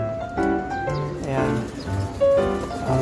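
A visiting pigeon coos at a loft, with soft throaty calls close by. Someone talks over them.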